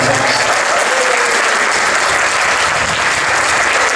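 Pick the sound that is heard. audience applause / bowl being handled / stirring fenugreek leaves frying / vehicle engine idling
audience applause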